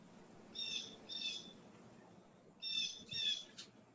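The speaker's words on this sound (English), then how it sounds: "So I think that's probably a blue jay." A blue jay calls outdoors in Washington, giving two pairs of harsh, buzzy calls with a pause between the pairs, heard clearly over a low background hum.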